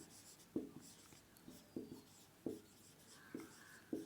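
Marker or chalk strokes on a board during a physics lecture, a series of short scratchy taps and scrapes recurring roughly every second, close and fairly quiet, with no talking.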